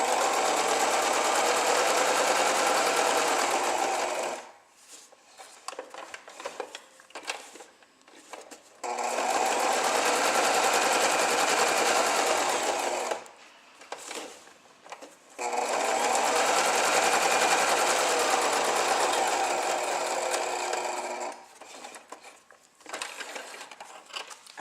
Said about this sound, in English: I'm going to go ahead and sew. And I'm just straight stitching around the edge.